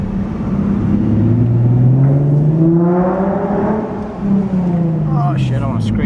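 A modded Nissan 370Z with an aftermarket exhaust, droning loudly and steadily as the engine pitch slowly rises and falls while driving, heard close from inside the car.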